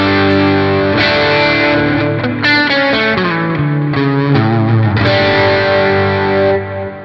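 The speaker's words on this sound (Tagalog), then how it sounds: "Ito yung parang blues driver niya." Electric guitar played through the blues driver overdrive of a Valeton GP-100 multi-effects unit, loud and mildly distorted, with sustained chords and single notes ringing and changing across the phrase, no talking.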